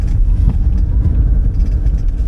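Nissan X-Trail driven at full throttle on snow, heard as a steady, loud low rumble of engine and road noise throughout, with no breaks or distinct events.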